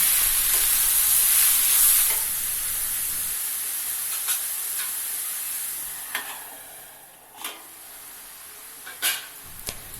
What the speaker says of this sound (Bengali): মাঝে মধ্যে ঢাকনা খুলে খুন্তি দিয়ে নাড়িয়ে দেব যাতে কড়াই লেগে না যায়